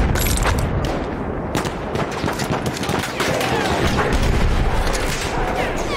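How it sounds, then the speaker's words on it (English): Enemy machine gun fire in the World War I shooter Battlefield 1, a dense, continuous rattle of rapid shots mixed with distant booms, loud and steady throughout, with voices shouting over it. "Enemy machine gun over there!"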